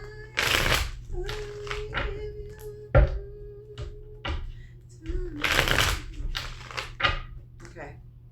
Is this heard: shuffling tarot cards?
yes